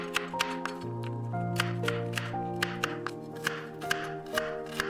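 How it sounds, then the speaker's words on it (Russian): A knife taps rhythmically on a cutting board, coarsely chopping roasted walnuts in steady strokes over soft background music. "Заранее обжаренные грецкие орехи крупно нарезаем."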